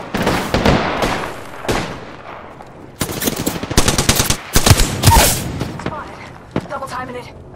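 Rapid bursts of automatic gunfire crackle in Apex Legends, loud and close, with repeated volleys and short pauses between them over a dense battle din.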